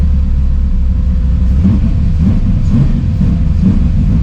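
An LSX-swapped Infiniti G35 accelerating, its deep V8 rumble loud and steady from inside the car, with the engine note swelling slightly as it pulls.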